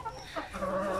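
Chickens clucking inside a newly built poultry house on a small farm, a brief burst of close, moderately loud clucks and calls.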